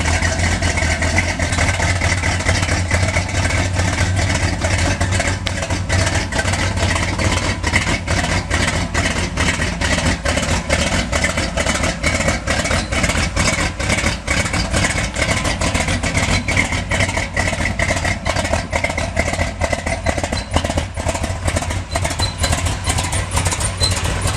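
A 1971 Corvette with a 454 engine idles loudly through its exhaust pipes, a steady deep rumbling burble with a fast pulsing throb, heard close from behind the car, no voices.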